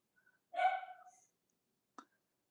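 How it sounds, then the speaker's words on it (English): A single sharp dog bark indoors in a home game room, short and moderately near against near-silence, followed by a faint brief click. "Your dog's barking."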